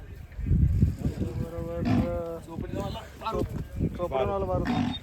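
A bullock-cart racing bull lets out several deep, drawn-out moos close by, loud and resonant, with voices mixed in around the calls, at a bullock-cart race in Kusgaon Khurd, Kamshet, Maval.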